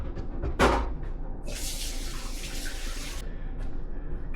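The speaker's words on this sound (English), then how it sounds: "I'll put this away and I'll wash my hands." Hands are washed under a running kitchen tap while meatballs are being made. A steady rush of water starts partway through, runs for a couple of seconds, then stops, leaving a quiet room.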